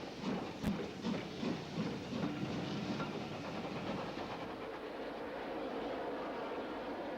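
A Midland Railway steam train with a compound locomotive leading sets off down a branch line, giving a steady rumbling run with rhythmic chuffing early on and a continuous hiss, heard at moderate distance.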